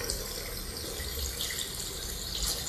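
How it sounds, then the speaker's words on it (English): Steady, continuous splashing and rushing of water in a pool, close and fairly loud, with no voices over it. "Pay attention to the sound of the pool behind us or in front of you."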